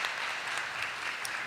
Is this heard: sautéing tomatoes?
no